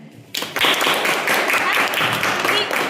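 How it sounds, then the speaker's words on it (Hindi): Students in a Hindi classroom break into loud group clapping after a short quiet moment. The clapping is dense and steady and fills the rest of the stretch. "एक बार मनीष के लिए जोरदार ताली"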